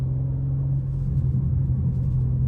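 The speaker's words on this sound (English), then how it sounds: "The car sounds a lot deeper because obviously the valve is open." BMW M2 with its exhaust valve open, idling in a deep steady rumble that carries low, loud and continuous throughout, with no talking.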